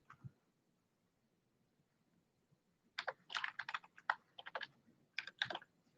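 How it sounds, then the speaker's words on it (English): Fast typing on a computer keyboard: after a few quiet seconds, a quick burst of crisp, close key clicks arrives in short clusters. "I typed that too fast"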